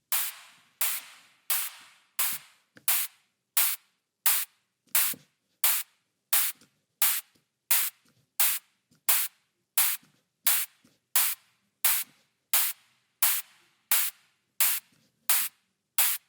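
Synthesized drum hit built in Ableton Operator with a subtle reverb on its tail, a crisp, bright noisy hit repeating steadily about every 0.7 seconds, each hit decaying quickly, with no talk.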